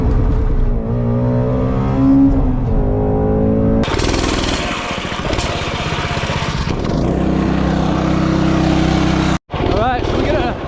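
A Coleman B200R minibike engine runs close by, a loud buzzing small-engine drone that rises and falls with throttle, while someone talks over it.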